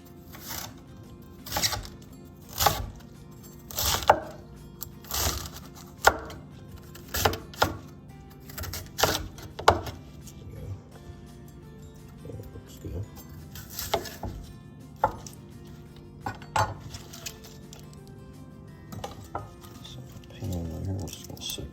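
A knife chops fresh herbs on a cutting board for a baked chicken dish, giving a series of close, crisp taps in irregular bursts with short pauses between them.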